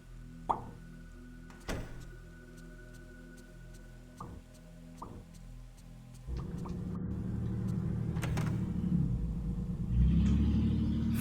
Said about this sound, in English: Or truck, that sounded more like a truck.